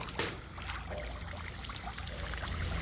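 Water gushing from a fountain nozzle fed by a 24V solar-powered submersible pump: a steady splashing trickle, close and moderately loud, with no talking.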